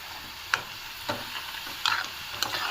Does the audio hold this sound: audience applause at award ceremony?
no